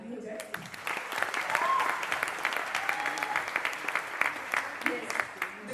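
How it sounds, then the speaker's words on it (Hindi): Live audience applauding at a comedy event for media, a sustained wash of clapping over several seconds with some voices mixed in, fairly distant and steady. "एक ताली हो जाए"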